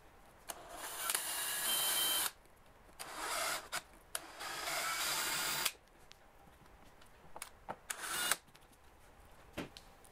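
A step drill bit bores a hole in a part of a Honda EU2200i generator during a propane conversion, heard as several bursts of high grinding whir separated by pauses, close and moderately quiet.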